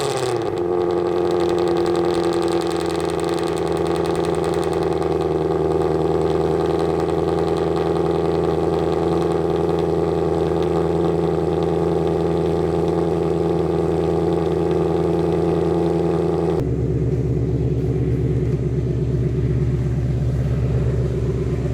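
A 2024 Ford Mustang GT S650 V8 fitted with Kooks long tube headers drives along with a steady, loud engine drone, then shifts to a lower, deeper rumble for the final few seconds.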